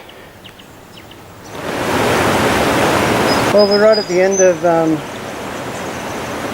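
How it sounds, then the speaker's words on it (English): Water drains out through Jellybean Pool with a steady, broad rushing wash that swells in and holds constant while someone talks over it. "there is a fair amount of water being drained out through it"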